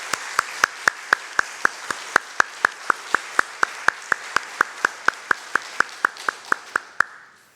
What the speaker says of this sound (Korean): 우리 다 함께 배나무 십자가 찬양대를 위해 힘찬 격려의 박수